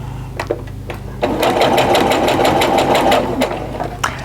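A sewing machine stitches quilt fabric for flying-geese blocks, starting with a few light clicks before running into a loud, steady mechanical whir with rapid needle ticking, close by.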